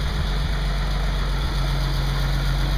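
An all-original 1934 Dodge sedan engine idling just after a cold start, a steady low rumbling drone with constant vibration, close and loud, unbroken throughout with no talk.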